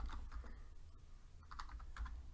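Typing on a computer keyboard while entering a title in a Scratch programming tutorial, with faint, quick key clicks in short clusters and no speech.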